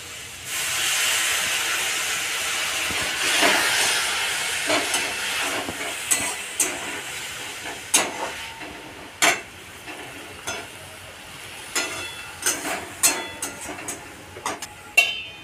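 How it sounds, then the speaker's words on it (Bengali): Drumstick leaves fry in a pan with a little water added, giving a loud steady hiss that fades into intermittent crackles and pops as the water cooks off. "সজনে শাকটা একটু শক্ত শক্ত তো, তাই আমরা ভেজে নিয়ে অল্প জল দিয়ে দিচ্ছি।"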